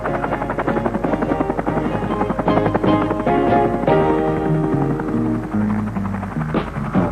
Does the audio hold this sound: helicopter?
yes